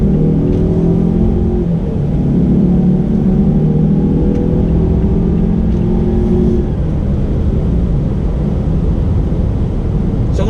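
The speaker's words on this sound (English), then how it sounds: "Let me go ahead and get on throttle here." A 2019 Mazda CX-9 SUV with a turbo four-cylinder accelerates, engine droning and climbing in pitch under a loud steady road roar heard from inside the cabin.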